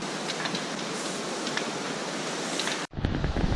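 A Himalayan mountain river on the Tso Rolpa trek roars as a steady, loud wash of rushing water with wind noise, dropping out briefly near the end before surging back.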